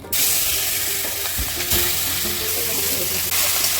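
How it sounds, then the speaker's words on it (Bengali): Rohu fish frying in hot oil in a wok in a village kitchen, a loud, dense, continuous sizzle with a few small clanks partway through, no one speaking. "কড়াইতে তেল দিয়ে মাছটা ভেজে নেবে।"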